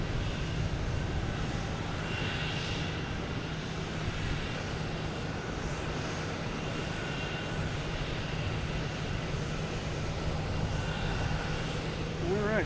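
A JetBlue Airbus A321 landing at Boston Logan from West Palm Beach makes a steady, broad engine roar heard at a distance, continuous throughout with a faint whine.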